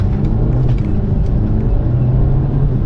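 A Mercedes-Benz C200 AMG Line, W205 C-Class, pulling away hard from first gear in Sport Plus mode, a steady loud engine rumble and whir throughout with no talking.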